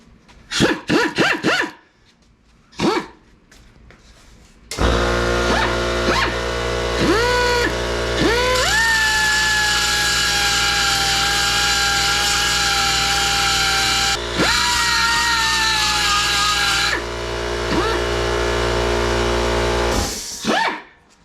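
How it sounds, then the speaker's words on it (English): Air-powered pneumatic sander grinding down spot welds on a 1960 Ford F100 pickup cab, running loud and steady for about fifteen seconds with small pitch dips as it bites, preceded by a few short bursts. "I want to show how good the sander is"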